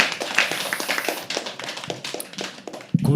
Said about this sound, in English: Can we please have another round of applause